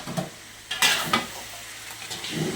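Pork browning in a pan for kare-kare, with a soft sizzle broken by several sharp clanks and scrapes of a utensil stirring against the pan.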